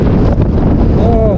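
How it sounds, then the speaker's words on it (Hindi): Strong wind buffets the microphone on a deserted, abandoned-looking remote mountain road between Pooh and Chango in the Kaza region, a loud, rough rumble that lasts the whole brief moment. "ओह, क्या हवा चल रहा है यहाँ पे।"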